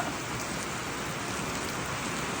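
Steady rain pours down outside a pole barn construction site, a dense, even hiss of falling drops that is continuous and moderately loud, with no talk.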